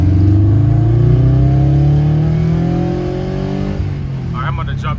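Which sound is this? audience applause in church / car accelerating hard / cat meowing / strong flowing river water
car accelerating hard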